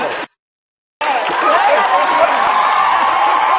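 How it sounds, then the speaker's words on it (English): Audience members, mostly women, clap together in a packed room, producing a dense, loud wash of applause and cheering that starts abruptly after a short dropout and continues steadily to the end. "Notice all the black women clapping"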